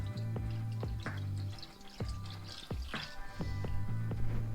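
Water poured from a one-cup measuring cup into a pot of Japanese soup, a soft continuous liquid splashing with small drips and clinks, close and moderately quiet, with no talk.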